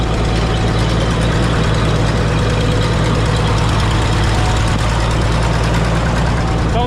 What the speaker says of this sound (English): Sounds like I still got a little bit of an exhaust leak.